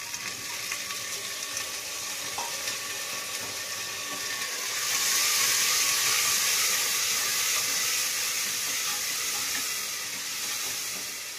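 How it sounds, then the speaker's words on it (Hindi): Potatoes tipped into a pan of fried onion and cumin for a potato and urad dal curry, giving a steady, dense sizzle that swells louder about halfway through and holds, with no talking. "प्याज और जीरा हमारा बन गया है, अब हम आलू छोड़ते हैं।"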